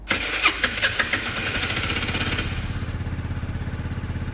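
A Peugeot Satelis scooter engine under restoration cranks with a few uneven bursts, then catches and settles into a steady, rapid idle putter, heard up close with no talking.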